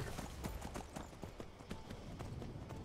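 Horse hooves clip-clopping at a steady trot in Skyrim, faint rhythmic hoof beats under someone speaking.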